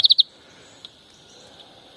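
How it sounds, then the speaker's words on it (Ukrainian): A greenfinch gives three quick, high, bright notes at the start, followed by a single faint note and a thin steady hiss, heard close and alone outdoors. "Зеленуха"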